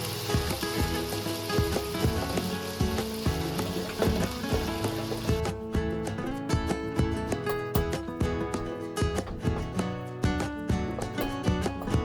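Chicken karahi tomatoes sizzle and hiss steadily in a hot pan as they are stirred, a dense continuous frying crackle with faint scraping, no talking.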